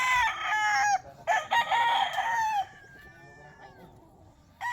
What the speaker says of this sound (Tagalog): Kulang-kulang 100 yata to manok.